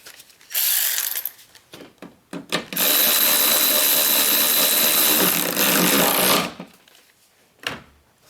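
A 12mm bolt is run in on the thermostat housing of a 2007 Chrysler Sebring 2.4L with a ratchet, giving short clicking bursts and then a long continuous rasping ratchet run, close up.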